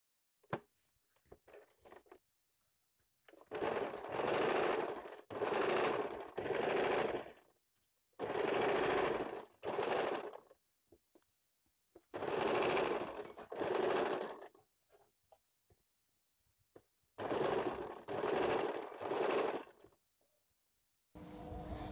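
A sewing machine stitches a girls' top in four bursts of rapid whirring, each a few seconds long and separated by quiet pauses, loud and close with no talking.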